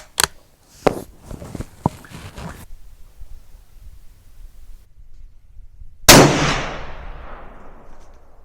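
A single sharp rifle shot from a Ruger American Predator cracks loud and close, then decays in a long echoing tail, after a few quieter handling knocks and clicks.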